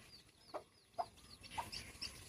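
A hen clucking at a chick, a few short soft clucks spaced about half a second apart with faint high peeping between them, fairly close but quiet, no talking.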